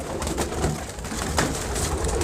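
Pigeons coo softly and repeatedly at close range in a short, continuous stretch of low, murmuring calls.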